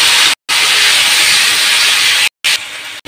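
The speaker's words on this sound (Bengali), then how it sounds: "এখন আমি মশলাগুলো আলুতে দিয়ে কষিয়ে নেব।" Spices sizzling with potatoes in a hot pan, a loud steady hiss of frying broken by two brief silent gaps.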